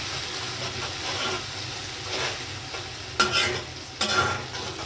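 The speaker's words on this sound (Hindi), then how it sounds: "अब इसमें मसाला मिक्स करके मसाले को अच्छे से भूनेंगे।" Masala and onions frying in a pan, with a steady sizzle and the scrape of a spoon stirring throughout, two sharper scraping bursts near the end, no talk.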